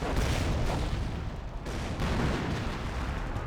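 Artillery barrage in the Company of Heroes war game: a dense, continuous wall of rumbling booms and blasts that stays loud for the whole stretch, with no clear gaps between impacts.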